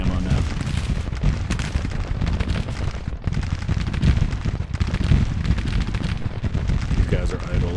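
Civil War 24-pounder howitzers fire repeatedly in Grand Tactician: the Civil War, a dense, continuous barrage of heavy booms and rumbling blasts at close range, with voices mixed into the din.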